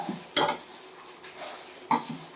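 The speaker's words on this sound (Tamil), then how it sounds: "வறுவட்டாலே இப்படி சலசலன்னு சத்தம் வரும்" Curry leaves and dried chillies roasting in a pan for South Indian idli podi, heard as two short, sharp bursts of rustling, scraping crackle over a quiet kitchen background.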